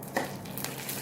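Two red chillies and a few curry leaves roast in a pan with a quiet, steady sizzle and one short stir scrape, heard alone and close.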